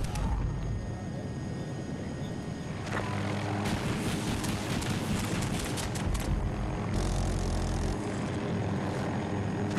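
A helicopter flies in the video game Battlefield 2042, its steady rotor and engine drone filling the whole stretch at moderate loudness with broadband gameplay noise layered over it.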